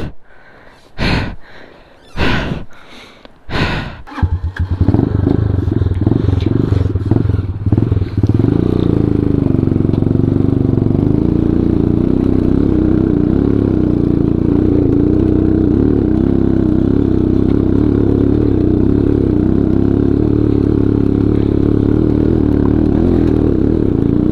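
A motorcycle engine on an off-road mountain track blips in several sharp bursts, then roars steadily and loudly up close, a continuous rough drone.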